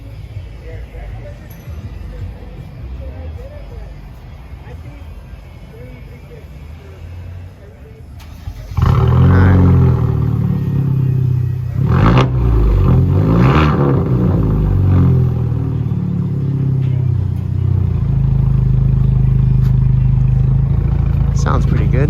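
A 2020 Kia Stinger with two rear muffler deletes starts after a quieter stretch, catching with a sharp burst and a brief rev, then settling into a loud, deep, steady rumble.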